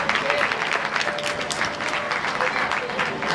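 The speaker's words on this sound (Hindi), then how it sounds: "एक बार जोरदार तालियां देव के लिए." Audience applause for a young contestant at the Gujarati Marvadi Super Kid 2016 talent show, a continuous, fairly loud wash of clapping that holds steady throughout.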